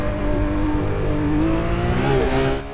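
In a racing video game, a 2016 Porsche 911 GT3 RS revs hard on track, its engine rising and falling in a loud, continuous howl, close and unbroken.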